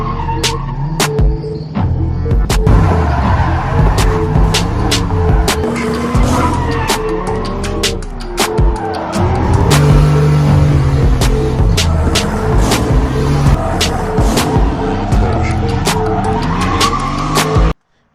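A car drifts at a session in Mebane, with engines revving hard and tires squealing and skidding in long, wavering screeches. The noise is loud and continuous for nearly the whole stretch.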